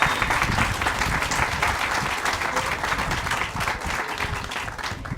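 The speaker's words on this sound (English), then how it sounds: "Let's give the company a round of applause." Sustained applause from a crowd gathered at the Burton Lumber 100th anniversary celebration, steady dense clapping that carries on without pause for several seconds.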